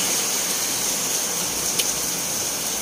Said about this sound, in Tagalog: yung lakas ng ulan